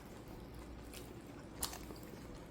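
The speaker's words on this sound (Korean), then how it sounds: "바삭한 곱창을 먹을 수 있습니다" Close, crisp chewing of crispy grilled beef intestines with a sharp crunchy bite partway through, against a steady low background hum; no talking.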